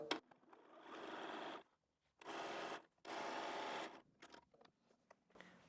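A sewing machine stitches a quilt strip down close to the edge in three bursts of steady whirring, each a second or so long, separated by short pauses and light handling noises.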